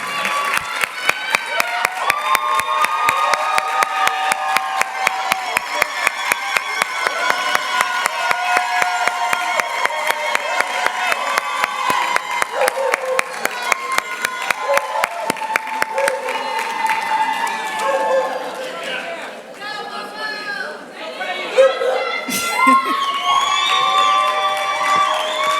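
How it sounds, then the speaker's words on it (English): Audience at a physician assistant white coat ceremony applauds and cheers the honorees, steady dense clapping with shouts and voices mixed in, loud and sustained throughout with a few brighter whoops near the end. "let's give them a warm round of applause to our honorees"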